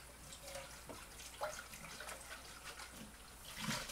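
Tap water runs into a kitchen sink during dishwashing, a faint, steady splashing stream with small clinks, heard alone at low level.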